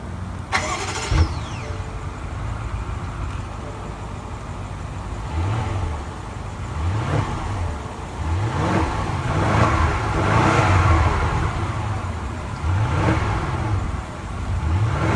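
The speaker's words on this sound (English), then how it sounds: "To start the engine, push your foot down the brake and press the start button located behind the steering wheel there." A car engine starts with a push button, catches quickly and then settles into a steady idle. The driver then revs it several times in rising and falling swells, loud and close, with no talk.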